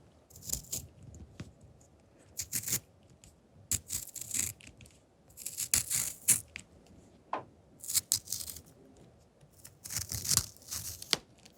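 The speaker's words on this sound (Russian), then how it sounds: "Будем точить сейчас карандаши и рисовать." Close-up pencil sharpening in a quiet room, heard as repeated short scraping and shaving bursts in an uneven rhythm, with no voice.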